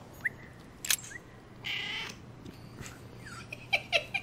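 Bird calls in the video game The Council, a few short chirps and whistles scattered over a quiet ambient background, with no talking.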